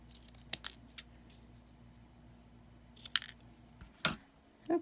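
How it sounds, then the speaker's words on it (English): Card is cut by hand with scissors for a sympathy card, giving a few sharp, isolated snips spaced apart over a faint, quiet background hum. "I'm going to give it a shot on just cutting"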